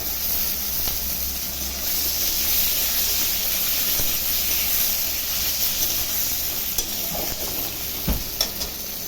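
Potatoes frying together with onions in a wok give a continuous hissing sizzle, with a few sharp spatula knocks near the end and no speech.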